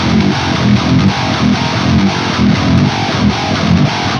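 Heavy distorted riff on an 8-string electric guitar, chugging low notes with hammer-ons and sharp accented hits in a steady repeating pattern, loud and up close with no talking.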